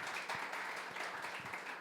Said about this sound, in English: everyone give a warm round of applause